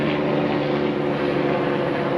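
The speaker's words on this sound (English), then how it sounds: "Oh, we got helicopters!" Aircraft rotor and engine drone from helicopters flying overhead, a steady, fairly loud roar with low harmonic hum that holds evenly throughout, with no talking.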